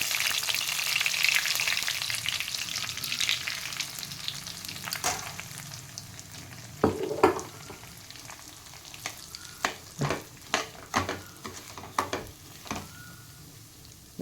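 Semolina (rava) roasting in oil in a pan for upma, with curry leaves and chana dal already added: a steady soft sizzle with a run of sharp scraping stir strokes in the second half, close and alone.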